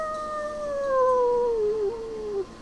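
A single long howl from inside a door in a tabletop game sound effect, a clear wavering tone that slowly falls in pitch for about two and a half seconds before cutting off, close and alone.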